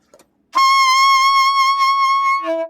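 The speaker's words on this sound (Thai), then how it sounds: "อ่านี่คือเสียงฟ้าคือเสียงล่านะครับ" A saxophone in Isan folk style holds a long, steady high F, then drops to a lower A right at the end. The tone is close and loud, played alone without voices.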